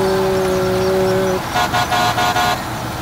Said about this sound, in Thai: เป็นเสียงดังจริงนะรถเนี่ยรถเกี่ยวข้าวเนี่ย